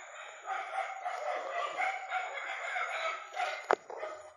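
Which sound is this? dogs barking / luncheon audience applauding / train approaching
dogs barking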